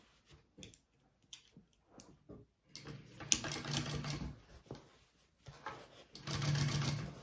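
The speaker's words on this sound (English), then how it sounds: "we are going to top stitch along this lining piece" A sewing machine top stitches through a bag lining and seam allowance, with a few quiet clicks followed by runs of steady stitching, close and fairly soft.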